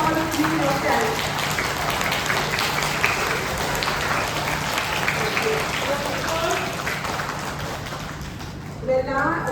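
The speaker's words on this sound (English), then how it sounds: "Please clap for them." Audience applause for young students at a school elocution and debate event, a dense steady clapping from a hall crowd that runs throughout and thins slightly near the end.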